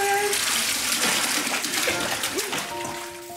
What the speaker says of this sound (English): we're gonna pour in the fish